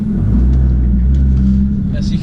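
Nissan GT-R tuned by Litchfield to 620 bhp driving and pulling hard, a loud deep engine rumble heard from inside the cabin with the drone rising slightly as it accelerates, while someone talks over it.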